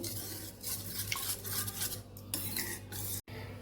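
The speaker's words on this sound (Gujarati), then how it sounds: "થોડા ગાંઠા છે એને આપણે સરસ મિક્સ કરી લેશું" Thin poha batter for cutlets being stirred and mixed to break up lumps, a continuous close scraping and sloshing of a utensil against the bowl, with clinks of metal.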